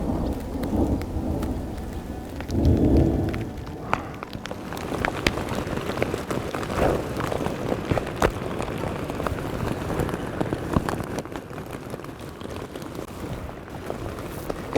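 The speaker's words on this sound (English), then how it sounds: "We just got dumped on in the hail." A hailstorm pelts down on Steens Mountain, Oregon, a dense, steady roar of falling ice and rain with a few heavier low rumbles early on, close and continuous throughout with no voices.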